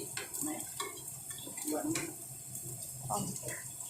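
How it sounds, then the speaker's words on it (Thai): Eggs frying in a pan while making sausage and ham fried rice, with utensils stirring and clinking against the pan amid soft background sizzle, under steady kitchen noise and talk. "ทำทำพร้อมๆไปกับการทอดไข่"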